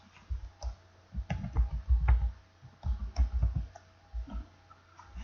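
Keys clack on a computer keyboard as a command is entered at a command prompt, in short irregular clusters of crisp taps with brief pauses, close and moderately quiet.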